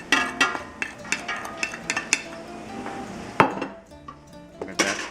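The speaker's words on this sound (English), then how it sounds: "I'm going to add chopped up onions into that mix right there" Chopped onions go into a large batch of pasta sauce for thirty people, with a utensil scraping and clinking against a metal pot in uneven knocks and taps, close and clear, with a louder clank partway through.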